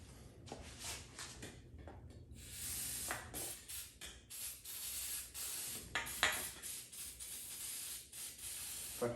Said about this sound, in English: I got a basically empty can of starting fluid.